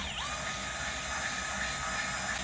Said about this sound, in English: So now I'm going to clean it out with some sandpaper.